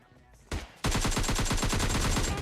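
Rapid automatic gunfire in a shooting video game, a single shot followed by a fast, evenly spaced burst of loud, close reports.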